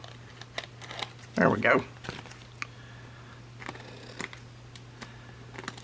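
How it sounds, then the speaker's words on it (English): Scissors cut through upcycled junk material in a couple of close, quick snips, with light handling clicks and taps scattered around them and a brief spoken remark. "We're just going to cut it out with our scissors."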